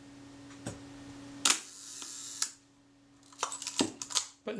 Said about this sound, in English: I was very gentle at releasing that shutter button